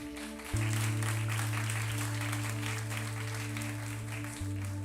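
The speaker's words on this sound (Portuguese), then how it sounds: "Mas aplauda Jesus por essa palavra." Church congregation applause during a Portuguese-language sermon, a continuous crackle of clapping mixed with sustained organ or keyboard tones, moderately distant.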